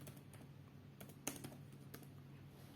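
Quiet, close-up typing on a computer keyboard gives a few scattered soft key clicks over low background hum, with one slightly louder keystroke in the middle.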